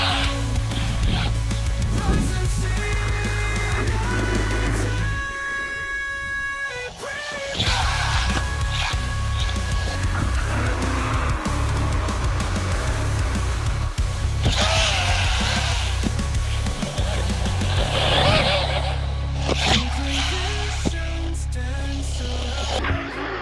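An Arrma Grom RC car, fitted with an upgraded differential, drives and pops wheelies outdoors, its electric motor whining and rising in loud bursts, with brief gaps between runs.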